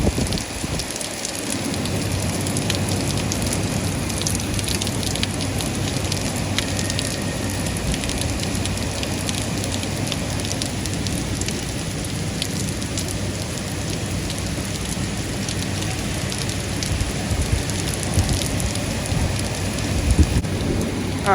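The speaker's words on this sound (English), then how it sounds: "It's just a torrential downpour." Torrential rain from the remnants of Hurricane Ida pours steadily over New York City, a dense continuous hiss of drops hitting surfaces close by, with low rumbling underneath.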